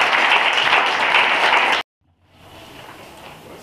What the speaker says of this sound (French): Vous voulez aussi applaudir pour nous.